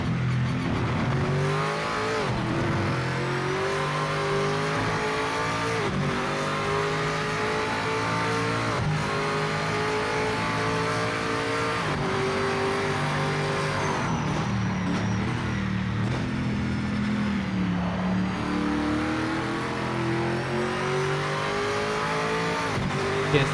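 Race car engines and tyres in the video game Project Motor Racing, a loud continuous engine whine climbing and dropping through gear changes and corners, with tyre squeal mixed in throughout.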